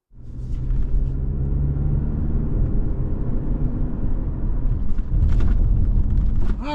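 A black 2025 Toyota RAV4 XLE all-wheel drive pulls away, its steady engine rumble and road noise rising quickly and holding close and loud throughout, swelling slightly toward the end.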